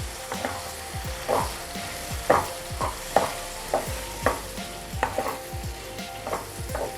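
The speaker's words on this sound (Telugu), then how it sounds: "టమాటాలు ఆల్మోస్ట్ మగ్గిపోయాయి కదా, దీంట్లోకి మనం తరుక్కున్న చిక్కుడిని యాడ్ చేద్దాం. దీన్ని పూర్తిగా కలిపి" Chopped broad beans being stirred into softened tomatoes in a pan for a homemade Andhra-style chikkudu curry, with a spoon scraping in a steady rhythm of about ten strokes over a soft sizzle, heard close with no talking.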